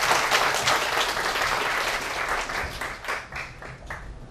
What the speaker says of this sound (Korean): 다시 한번 세게 따뜻한 박수 부탁드립니다.